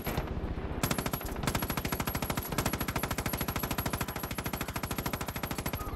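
Rapid automatic gunfire from the player's gun in Far Cry 5, a fast steady stream of sharp shots after a brief pause, loud and close with an even mechanical rhythm and no talk.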